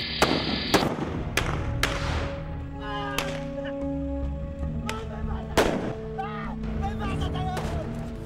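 Rapid volleys of gunshots fired at a vehicle at night, sharp loud cracks in irregular bursts with distinct echoing reports, over a backdrop of sustained tones and music.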